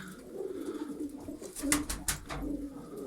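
A tall pigeon coos softly in a breeding loft, a few low murmuring calls close by with faint rustling around them.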